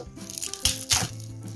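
A barcode sticker peeled slowly off a plastic seedling package, giving two sharp tearing rips amid soft crinkling of the packaging, close up and with no talk.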